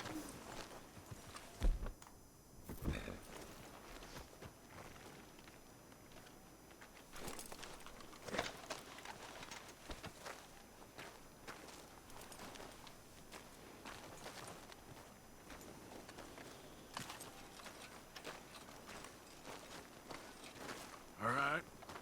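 Horse hooves clip-clop at a walking pace in Red Dead Redemption 2, steady and moderately close beneath background game ambience and voices.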